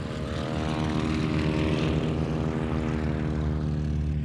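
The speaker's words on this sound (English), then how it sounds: "PT-17 Stearman, powered by a 220 horsepower engine" Steady, loud drone of a PT-17 Stearman open-cockpit biplane's 220 horsepower engine, a continuous propeller roar with a low harmonic hum and no voices over it.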